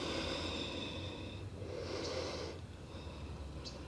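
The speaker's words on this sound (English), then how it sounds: "Breathing in and out through the nose." Slow, audible breaths in and out through the nose during a gentle beginner yoga flow, a long inhale followed by a softer exhale, close and steady with no talking.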